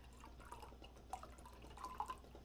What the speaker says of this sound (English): I'm just gonna put some cold water from the fridge.